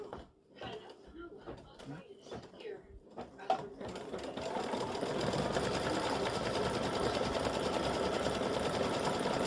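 An embroidery sewing machine runs a stem stitch on flower buds, starting after a few seconds of handling noises and then whirring in a steady, dense, continuous rhythm close by.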